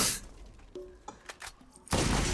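Gunfire in the video game Borderlands, with a loud burst at the start and another at the end and quieter clanks and thuds in between.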